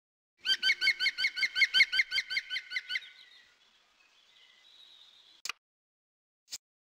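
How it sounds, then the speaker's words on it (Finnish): A green woodpecker gives a loud, ringing series of about a dozen rapid, evenly spaced laughing notes, then a fainter trailing tone and two brief sharp clicks, heard alone and close. "Vihertikka."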